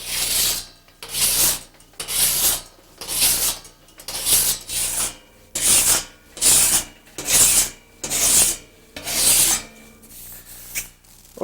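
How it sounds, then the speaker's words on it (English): A hand file rasps across a metal car door panel in about ten even back-and-forth strokes, each a loud, close, gritty scrape with short gaps between. "But right now, we've got to file this panel and finish it up."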